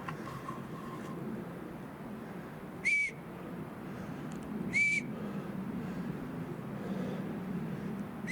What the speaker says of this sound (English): Whistles to my left. Dramatic whistles.